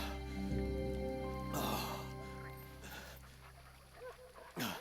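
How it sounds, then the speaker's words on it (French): A dog pants in quick, breathy bursts that come and go over a sustained musical backdrop in the video game Kingdom Come: Deliverance II. "Oh le chien il est là."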